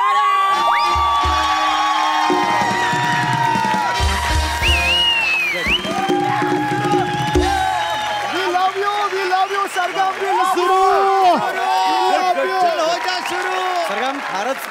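A studio comedy audience breaks into loud applause, cheering and whoops, a dense wash of clapping and shouts near at hand that stays lively under overlapping voices.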